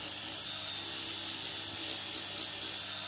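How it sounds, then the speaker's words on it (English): An electric toothbrush runs over coral with a constant high whirring buzz, quiet and unbroken, with no speech. "You can use a normal toothbrush. I like to use the electric one."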